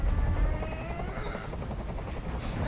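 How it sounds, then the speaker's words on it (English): Helicopter circling overhead in the video game Detroit: Become Human, a steady loud rotor drone that fills the whole stretch with no pause. "Tell that helicopter to get out of here."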